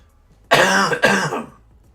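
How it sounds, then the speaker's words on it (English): Two sharp, loud coughs from a sick person in quick succession, close up, with a short tail of breathy rasp after the second. "I can trigger a cough like pretty easily, like without trying"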